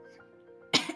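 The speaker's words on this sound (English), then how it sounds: "Sorry about the coughing." A single sharp cough erupts near the end after a stretch of low background hum, loud and close, from someone with a sore throat.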